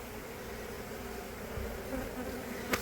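Honeybees on a shed floor in Lakeland, Florida hum in a continuous, fairly quiet buzz, with a single sharp click near the end.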